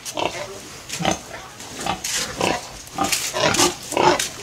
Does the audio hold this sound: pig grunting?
yes